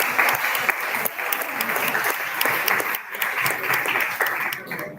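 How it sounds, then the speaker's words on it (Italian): An audience claps together in sustained, dense applause, loud and close, holding steady for several seconds before tapering slightly at the end. "quindi un applauso a voi."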